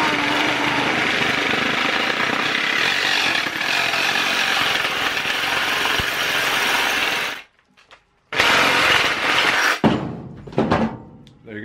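A Sawzall reciprocating saw cuts through PVC pipe with a loud, continuous buzzing rasp for about seven seconds, then stops briefly and restarts in short bursts before ending.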